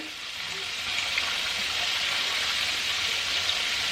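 Thick chicken breasts deep frying give off a steady hissing sizzle that swells a little after the first second and stays even, close and moderately loud.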